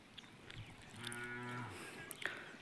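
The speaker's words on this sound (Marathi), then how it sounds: "ते वासरू बी लई येडे, सारखा आवाज येते पाठीमागून" A calf moos once, a drawn-out call of about a second at moderate distance, set against quiet outdoor background with a few faint clicks and knocks.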